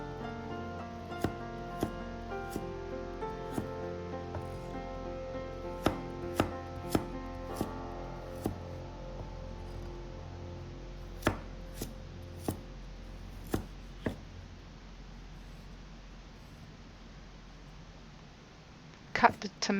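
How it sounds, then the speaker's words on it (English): A knife slices a carrot on a cutting board for a beef meatball and cabbage soup, giving a dozen or so sharp, evenly spaced chops close by over a steady low background hum. "Then slice the carrot."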